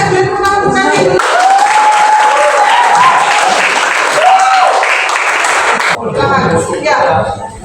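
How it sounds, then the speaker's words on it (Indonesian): Classroom applause for a student in a lesson, a steady dense patter of clapping that fills most of the clip, with voices speaking over it at the start and end. "Boleh tepuk tangan untuk Kevin."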